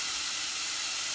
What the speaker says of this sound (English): And just let that saute for a minute.